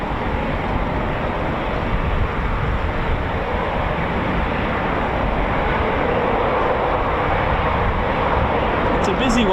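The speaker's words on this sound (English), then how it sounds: "I can hear another Typhoon just spooling" A Eurofighter Typhoon FGR4 jet spooling up at RAF Coningsby, a loud, continuous broadband engine roar that holds steady and dense from start to finish.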